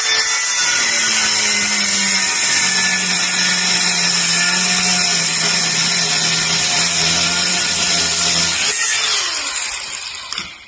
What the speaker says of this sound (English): It's C-solid, so I'm just going to get the cutter, chop it off and punch it through.